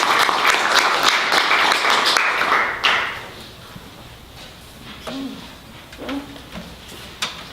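Bookstore audience clapping to welcome a musician: a dense burst of applause that fades within about three seconds, followed by quiet room tone with a few soft scattered taps.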